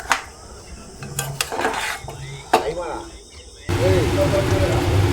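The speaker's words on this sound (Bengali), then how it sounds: "এবার খানিকক্ষণ নাড়াচাড়া করব, নাড়াচাড়া করলেই মানে টমেটো থেকে জল বেরিয়ে যাবে।" Tomatoes stirred in a pan for pickle, with scattered scraping clinks of a spoon against metal, then a louder steady sizzle taking over.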